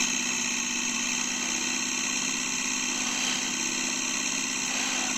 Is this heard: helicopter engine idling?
yes